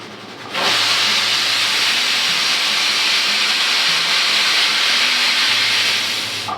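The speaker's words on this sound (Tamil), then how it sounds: "செகண்ட் விசில் வந்துருச்சு. ஸ்டவ்வை ஆஃப் பண்ணிக்கலாம். ஸ்டீம்லாம் அடங்கட்டும்." A pressure cooker cooking pulao on a stove releases a loud, sustained hissing whistle of steam that starts abruptly and holds steady for several seconds before easing slightly, close by and with no talking.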